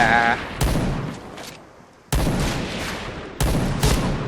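Sniper fire in the video game Point Blank gives three loud, booming shots spaced about a second and a half apart, each trailing off into a decaying echo, with someone talking excitedly over them.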